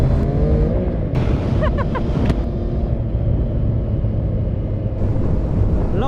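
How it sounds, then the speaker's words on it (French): A Triumph Trident 660 motorcycle, heard from the rider's position, accelerates with a loud continuous engine roar under heavy wind rush, and the engine note climbs as it pulls. "Ah là, l'accélère là"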